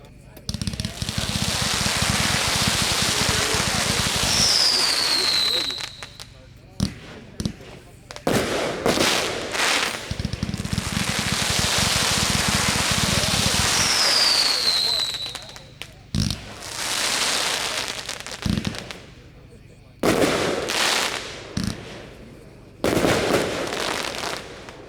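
Cosmic Titan, a 158-shot Hog Wild firework cake, fires in loud rapid volleys of crackling bursts and whistling rising tails, in several long barrages separated by short pauses.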